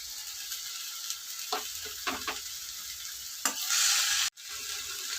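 Raw prawns seasoned with turmeric and rock salt fry in a pan on the stove, a close, steady sizzle broken by a few stirring scrapes and a sudden louder hiss before the sound cuts out briefly.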